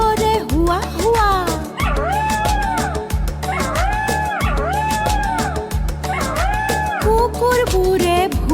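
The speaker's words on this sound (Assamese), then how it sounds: "কুকুৰবোৰে ভুকে" Dogs bark and yip in quick, rhythmic bursts over a musical backing with a steady beat, repeating in short phrases through the children's animal-sound rhyme.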